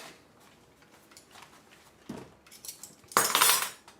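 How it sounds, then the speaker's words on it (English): Chopsticks stirring a sauce with a little baking soda in a bowl, light clicking and scraping taps building to a louder rattling burst near the end, close up with no talking. "And I need to mix this up with something. A couple of chopsticks will do it."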